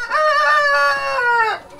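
A rooster crows once, loud and close, a single drawn-out call lasting over a second with a sharp fall at the end.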